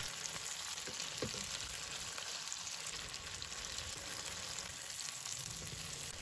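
Tofu fries in a pan with oil, a steady close hiss and sizzle throughout with a faint clink or two, no voices.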